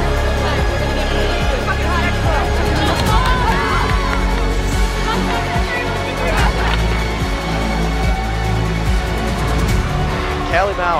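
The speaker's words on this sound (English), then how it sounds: "The crowd behind us and on the other side went nuts." A crowd at a volleyball match roars continuously, loud and dense, with voices shouting over a steady wash of cheering and a commentator speaking close over the noise.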